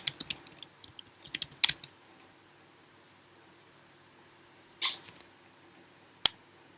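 Keys clatter in a quick burst of typing on a computer keyboard, then a pause, a short second flurry and a single final tap, all faint and close against a quiet room.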